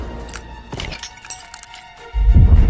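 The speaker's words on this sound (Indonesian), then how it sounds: "mesin waktu itu pun hancur dan menarik segala macam logam yang ada di tempat" A time machine shatters in the film The Adam Project, pulling in nearby metal: scattered cracks and clinks over a steady hum, then a loud, deep rumbling crash to close.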